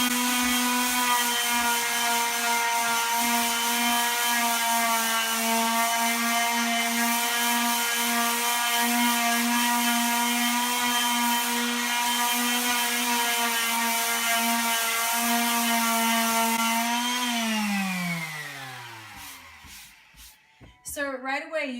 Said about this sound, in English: we're going to sand this down and then I'm going to seal it.